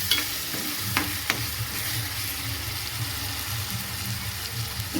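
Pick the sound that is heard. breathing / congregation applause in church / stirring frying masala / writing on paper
stirring frying masala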